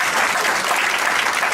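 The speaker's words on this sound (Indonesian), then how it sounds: "Tepuk tangan buat Tuhan." A church congregation claps loudly and continuously during a sermon, dense overlapping applause filling the room from start to end.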